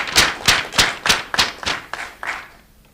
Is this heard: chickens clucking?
no